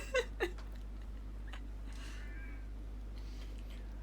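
A cat meows a couple of times, moderately near, over a steady low electrical hum, followed by a fainter drawn-out meow and quiet room noise.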